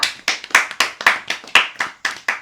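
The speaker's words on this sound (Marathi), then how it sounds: "टाळ्या वाजवा" Children clap their hands in a quick run of about ten sharp, evenly spaced claps, loud and close, with no other sound between them.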